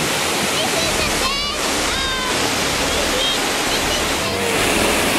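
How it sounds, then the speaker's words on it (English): Stewart Falls waterfall roars as a dense, steady rush of water heard up close from a ledge, constant and loud throughout, with a few faint voices and whistles under the noise. "And this is the waterfall."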